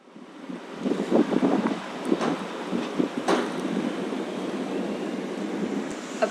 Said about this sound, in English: Apologies for the noise. Again, the wind did pick up.